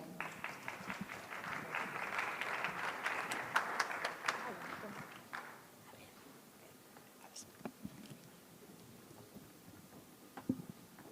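Applause from a conference audience fills the first five seconds, then dies away into quiet room noise with a few scattered claps.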